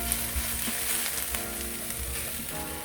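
Chilli paneer ingredients with ginger sizzle and fry steadily in a hot pan, a continuous close crackle with faint stirring scrapes and no talk.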